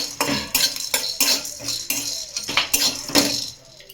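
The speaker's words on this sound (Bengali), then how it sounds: "গরম মশলা দারচিনি এলাচ লবঙ্গ আর গোলমরিচ আর একটা শুকনো লঙ্কা এগুলো প্রথমে ভেজে নেবো" Whole cinnamon, cardamom, cloves, black pepper and a dried red chilli are stirred in a pan, producing repeated close metallic scrapes and clinks of a spoon against the metal in an uneven rhythm, with only a faint sizzle.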